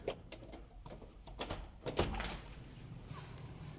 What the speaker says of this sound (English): if you just go ahead and open up this door right here